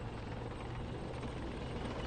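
A helicopter in the tank simulation game Steel Beasts Pro gives off a constant dense rotor and engine roar, fairly low in level and unchanging throughout.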